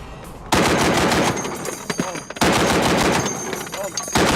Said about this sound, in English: the 50mm heavy machine gun.